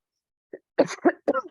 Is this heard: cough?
yes